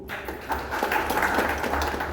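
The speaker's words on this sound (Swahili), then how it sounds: "Tuwapigie makofi." A crowd claps and applauds for the technical team at a gathering, a steady round of clapping lasting a couple of seconds at moderate volume.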